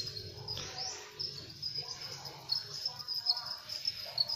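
Crickets chirp steadily in a breeding pen whose droppings have just been cleared, a dense high-pitched trilling that runs throughout with faint low rustling beneath.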